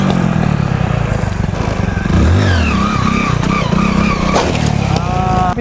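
A Honda Hero Splendor motorcycle engine revs hard for a wheelie, loud and close, with the pitch rising and falling through throttle blips over a rattling idle.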